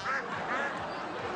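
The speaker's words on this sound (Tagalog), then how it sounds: "Ayun, ang dami nilang bibi." Many ducks, likely ducklings among them, quack in a busy, overlapping chorus at close range on a farm during an outdoor variety show segment, with faint talk underneath.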